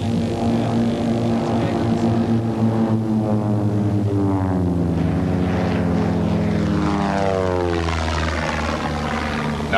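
A propeller-driven aerobatic plane flies past in a knife-edge maneuver at an airshow in South Africa in 1979, its loud droning engine sweeping by with a clear pitch shift as it passes, no voices heard.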